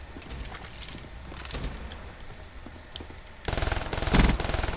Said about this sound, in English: I got my sentry gun.